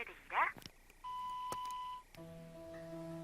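A mobile phone call rings out unanswered: a steady electronic tone sounds, then shifts to a different repeating ring pattern, alone with no one picking up, after a brief voice at the start.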